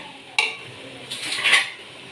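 Mint leaves go into a pot of seeraga samba mutton biryani, heard as a sharp metallic clink of utensil against the pot followed by a soft rustle and a faint sizzle, close up.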